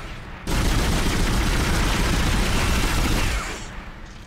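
Sustained heavy gunfire in the sci-fi horror game Dead Space, a loud, dense burst of shooting lasting about three seconds with no talk over it.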